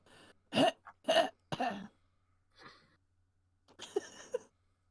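A person coughing loudly during a tabletop role-playing session, three sharp close coughs in quick succession, then a softer cough and a final rougher burst after a pause, with quiet gaps between.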